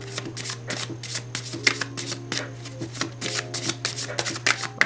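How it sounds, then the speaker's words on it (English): Astrological cards being shuffled by hand, a rapid run of crisp riffling bursts and soft flicks, close and alone over a faint steady hum. "I'm gonna shuffle some astrological cards"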